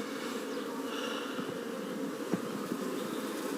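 Honey bees in a calm colony inside an open top bar hive, a steady, soft, close buzzing hum with individual bees flying past the microphone, no voices.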